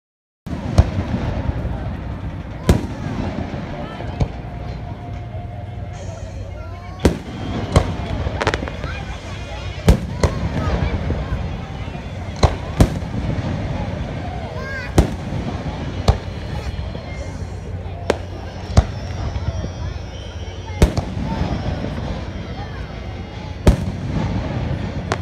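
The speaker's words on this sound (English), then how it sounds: "there's fireworks, and I'll be right back when they start" Fireworks bursting outdoors, a long irregular series of sharp bangs and pops at varying distances with crackling between them, and occasional voices in the background.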